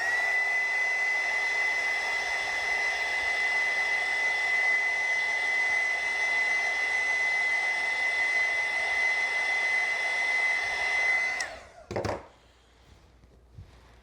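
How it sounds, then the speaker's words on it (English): Heat gun drying wet watercolor paint on a tulip painting, a steady loud blowing whine with a constant high tone that runs for about eleven seconds, then cuts off, followed by a couple of brief knocks. "It is still a little bit wet, so I'm going to take my heat gun"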